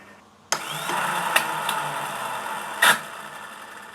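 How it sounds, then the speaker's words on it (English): Motorcycle starter clutch engaging as the engine is cranked, a sudden mechanical onset followed by a steady whirring grind with a few sharp clicks and a louder clunk near the end, close and fairly loud. "And that sounds like the starter clutch."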